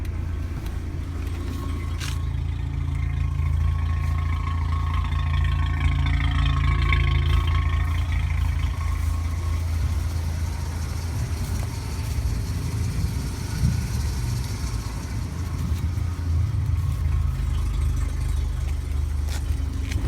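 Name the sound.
car engine idling low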